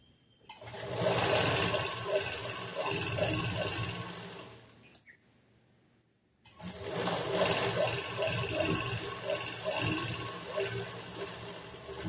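A sewing machine runs continuously while stitching a second line over existing stitches on chudidar semi-Patiala pants, whirring steadily in two long bursts separated by a short pause.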